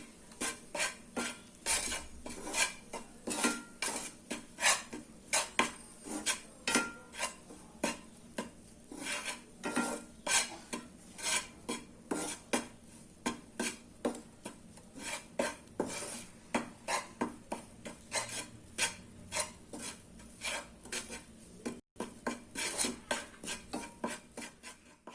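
Wheat flour roasting in a pan over a medium flame, a utensil scraping and clinking steadily against the metal in a fast, even rhythm of repeated strokes, close and alone without talk.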